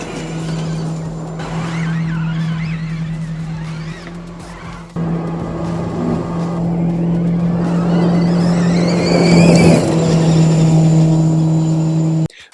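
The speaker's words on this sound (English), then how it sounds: "this car sounds amazing" Audi electric rally car fitted with Formula E motors from the e-tron FE07, 500 kW, driving with a steady high electric whine rising and falling as it accelerates, with tire scrabble and skidding on the surface throughout.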